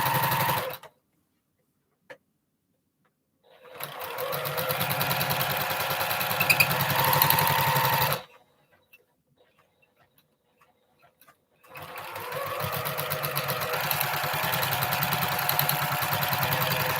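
A sewing machine stitches two fabric strips together for a large postage-stamp quilt block, running in two long steady bursts with a mechanical whir and rapid needle clatter, separated by a silent pause.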